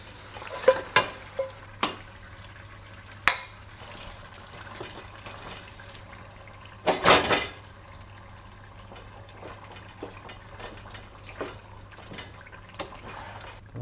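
Marinated chicken for a biryani is tipped into a hot frying pot and stirred, with scattered utensil clatter and scraping over a soft continuous sizzle, a louder burst of stirring midway.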